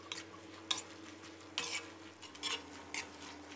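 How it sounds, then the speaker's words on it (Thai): Minced pork and bamboo shoots stir-fried in a pan, quiet with intermittent bursts of spatula scraping and clinks against the pan over a faint sizzle. "แล้วก็ให้เราผัดคลุกเคล้าให้เข้ากันนะครับผัดให้เครื่องนะครับซึมลงสู่เนื้อหมูและหน่อไม้เลยนะครับ"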